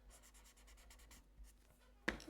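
Pencil and blending stump rubbing powder across paper in a hand drawing, a soft steady back-and-forth scratching followed by a sharper louder stroke at the end, close and alone.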